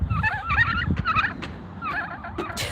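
Turkeys gobble loudly in several rippling bursts, close by, with rustling and shuffling noise underneath.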